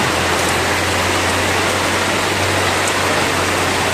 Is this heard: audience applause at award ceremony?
no